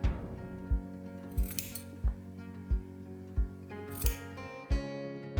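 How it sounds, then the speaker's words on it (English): Scissors snipping the corners of sewn fabric straps for baby bloomers, a steady series of about eight crisp close cuts with light metallic clinks, no voices. "Next step, trim the 4 corners of each strap to reduce bulk."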